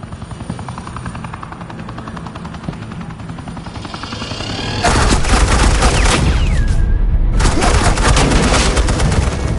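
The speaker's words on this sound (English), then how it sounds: "suppressing fire." Sustained bursts of automatic gunfire as suppressing fire in the Batman Telltale series game, loud and dense from about five seconds on, layered over a steady helicopter-like rotor drone with no talking.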